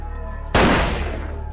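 A single loud gunshot cracks suddenly and its boom decays over a second, set against a quiet background.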